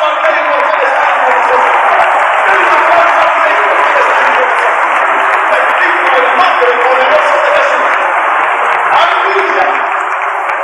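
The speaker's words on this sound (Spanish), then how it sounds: "Dele un aplauso al Rey por su descanso." A church congregation applauds loudly and steadily for about ten seconds, a dense, sustained wash of clapping with no break.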